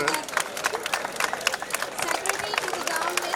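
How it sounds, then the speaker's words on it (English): A crowd at an Independence Day celebration claps in steady applause to welcome a chief guest, dense and close, with voices and babble mixed in. "Everybody give a round of applause to welcome the chief guest, Shri Shamannagar,"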